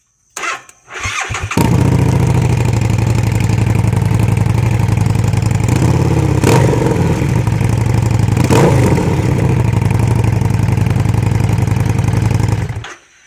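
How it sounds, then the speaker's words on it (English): A 2015 Harley-Davidson Street 750 with the exhaust baffle removed from its muffler fires up after a short crank and runs at a loud, deep, close idle with a couple of throttle blips before cutting off. "the after was obviously right after I took the baffle out"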